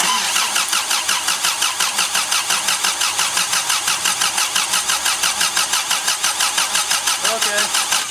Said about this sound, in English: crank her over for about 10 or 15 seconds